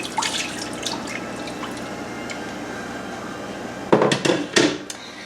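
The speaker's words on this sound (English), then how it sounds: "we start off by putting 2 cups of whole milk into a saucepan" Two cups of whole milk poured into a saucepan give a steady, soft liquid wash, then a few louder splashing bursts near the end; no voices.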